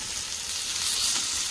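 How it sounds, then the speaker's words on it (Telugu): Okra pieces and masala frying in a pan, a steady bright sizzle that stays continuous and fairly close, with no talking. "ముక్క అయితే ఇలా వేగిపోయాలన్నమాట. మసాలా కూడా చక్కగా వేగిపోతుంది"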